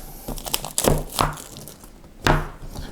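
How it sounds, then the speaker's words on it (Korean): Plastic wrap is peeled off a Xiaomi Mi Play smartphone box in a few short, close crinkling rips with brief pauses between them. "먼저 비닐을 벗겨내고"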